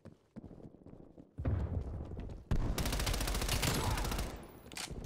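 Rapid gunfire in the Call of Duty Cold War game on the Moscow map, with sparse single shots followed by dense, loud automatic bursts of rattling fire that carry through to the end.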